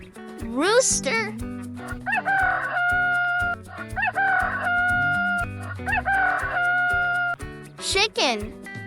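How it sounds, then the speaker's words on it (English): A rooster crows several times in long, loud cock-a-doodle-doo calls spaced across the clip, with a voice speaking briefly and light background music between the crows. "Rooster."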